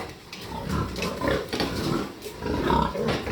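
Farm pigs grunting in a pen, irregular soft grunts and snuffles coming in bursts at a faint, fairly close level with no voices.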